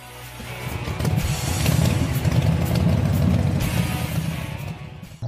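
A motorcycle engine with a dirty, faulty carburetor that keeps bogging down runs nearby, its rough, uneven idle swelling in loudness then easing before cutting off abruptly.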